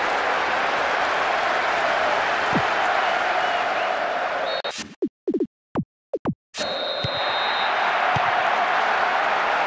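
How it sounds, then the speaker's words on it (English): A football stadium crowd in PES 2024 claps and roars in a steady broad wash, cutting out briefly midway, with commentary over it. "Even some of the opposing fans are clapping that."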